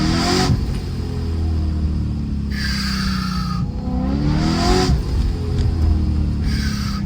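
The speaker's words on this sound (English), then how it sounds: "especially with this blow-off valve. It's the Vortec Max Flow blow-off valve, if I'm not wrong. It sounds insane." BMW M3 with a Vortech centrifugal supercharger revving in first gear, its Vortech Max Flow blow-off valve venting in repeated loud hissing bursts each time the throttle lifts, over a steady engine drone.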